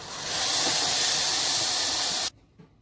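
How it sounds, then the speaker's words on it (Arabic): Boiling hot water poured into a pot of lentils, rice and vermicelli for koshari makes a loud, continuous hissing rush for about two seconds before cutting off abruptly, leaving faint clatter; nobody speaks. "احط له ميه سخنه بتغلي."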